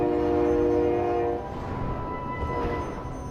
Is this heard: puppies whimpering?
no